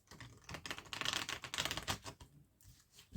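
Tarot cards being cut for a reading make a soft, close flurry of papery clicks and slides, quiet and brief, with no voice over them.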